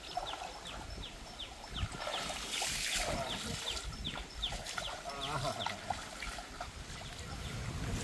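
Small mountain stream in a rocky jhora trickles steadily nearby, with water splashing over stones, scattered chirps, and a few faint voices in the background.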